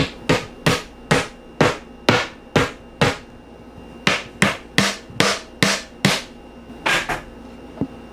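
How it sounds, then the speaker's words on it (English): A hammer strikes crushed wooden skateboard plies to flatten them, about fifteen sharp, close knocks in a steady rhythm with brief pauses between groups, and no talking. "You might have to take a hammer to some parts to get it to really go flat."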